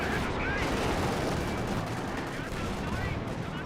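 Dense battlefield gunfire and artillery from Company of Heroes 2, a continuous loud barrage of overlapping shots and booms with no pauses.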